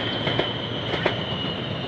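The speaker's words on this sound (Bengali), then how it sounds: "মালয়েশিয়ার মেট্রো রেল" A metro rail train in Malaysia runs by at speed, producing a dense, continuous roar with light rhythmic wheel clacks and a thin squeal riding on top.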